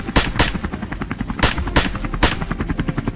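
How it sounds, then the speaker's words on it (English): Rapid bursts of gunfire ring out during a wild boar hunt in a cold forest, loud sharp volleys repeating in quick succession over a steady helicopter drone. "Gunfire erupted in rapid bursts."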